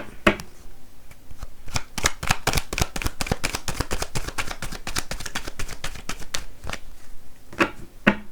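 Tarot cards are riffled and drawn from the deck, a rapid run of crisp flicking snaps that sounds close and clear, with a few separate slaps at the start and end.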